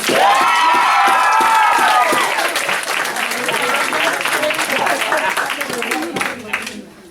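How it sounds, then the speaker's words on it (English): Graduation audience breaking into loud applause and cheering, dense clapping with shouts and whoops from a nearby crowd, a voice and tonal sound at the start, tapering off near the end. "Give her a applause."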